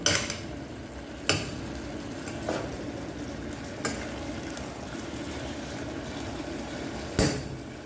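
Chicken with soy sauce and oyster sauce sizzles softly in a pan while a utensil stirs it, with a few sharp clacks against the pan over a steady low frying hiss.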